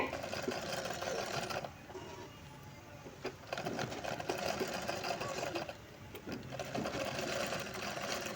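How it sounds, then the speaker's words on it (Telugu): Sewing machine stitching a boat neck blouse, running in steady continuous bursts with a brief slowdown around the middle and another near the end, close and clear with no talk. "ఆ కుట్టు మీదనే మనము ఈ కుట్టు పడే విధంగా కుట్టుకుంటూ రావాలండి"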